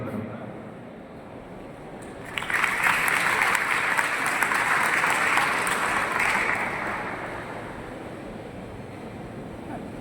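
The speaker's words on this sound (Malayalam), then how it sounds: "മുഖ്യമന്ത്രി ആയതുകൊണ്ട് വരുമ്പോൾ കൈയടിക്കണം കേട്ടോ" Audience applause breaks out at a World Blood Donor Day event at Rajagiri Hospital as Chief Minister Pinarayi Vijayan is invited onto the stage. The sustained, loud clapping begins abruptly a couple of seconds in and then gradually thins out.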